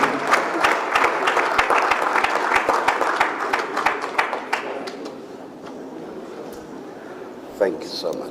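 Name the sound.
louder round of applause for archbishop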